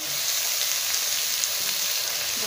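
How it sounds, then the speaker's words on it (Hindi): Beef pieces frying with ginger garlic paste in a karahi give a steady, dense sizzle that runs evenly throughout, close and continuous with no talking. "ये गोश्त हमारा आहिस्ता आहिस्ता से फ्राई हो रहा है।"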